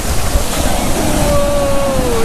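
Ocean surf washing onto a Virginia Beach shoreline, a broad steady roar of breaking waves with a rising whistle-like tone over it, close and fairly loud throughout.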